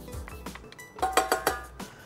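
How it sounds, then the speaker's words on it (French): Metal saucepan handled on the stove while spices cook in butter, a few sharp ringing clinks and knocks in quick succession, close and fairly quiet, with no talk. "je mets un petit peu de beurre dans ma casserole"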